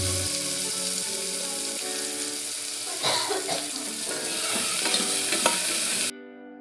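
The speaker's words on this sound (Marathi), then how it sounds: "उभा चिरलेला टोमॅटो मऊ होईपर्यंत परतून घ्यायचा" Chopped tomato and ginger-garlic paste sautéing in a pan for chicken rice, a steady sizzle with clinks and scrapes of stirring that grow busier midway, then cut off abruptly near the end; no talking.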